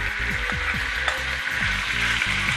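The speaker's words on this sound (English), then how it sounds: "Our pan is nice and hot now. Oh, you hear that sizzle?" Beef tips sizzling in olive oil in a hot pan, a close, dense, steady frying hiss with a low hum underneath and no voices.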